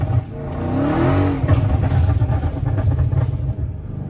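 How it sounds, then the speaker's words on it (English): A flame-tuned Dodge Scat Pack revs hard while sliding on wet pavement in the rain, its loud, close engine rising and falling through repeated throttle blips with tire hiss and spray. "Look how bad this car slips."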